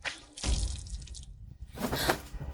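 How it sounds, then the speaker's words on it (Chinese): Water splashes and trickles in a dramatized household scene, two close bursts of pouring, dripping liquid separated by a brief quieter gap. "水声？"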